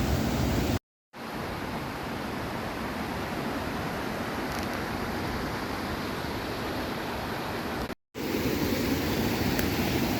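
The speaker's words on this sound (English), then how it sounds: "you can hear the waterfall as well, I think, in the background." A Lake District waterfall roars as a steady, dense rush of falling water, loud and continuous, broken only by two brief cuts to silence.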